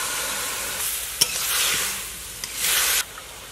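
Castor seed paste is fried and stirred in a pan, giving a hissing sizzle that surges in two waves, with a couple of sharp utensil taps against the pan, close and without speech.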